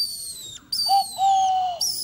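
Owl call whistle toy blown in short hooting whistled notes, a high tone then a lower sustained note and another brief toot, close and clear with no talk.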